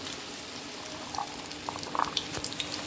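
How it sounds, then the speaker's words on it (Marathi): Cornflour-coated chickpeas dropped into hot oil, a soft bubbling fry with scattered small pops and crackles building after the first second, fairly quiet and close, with no voices. "आता तेल पण तापलं आहे आपलं, आपण आता हे फ्राय करू।"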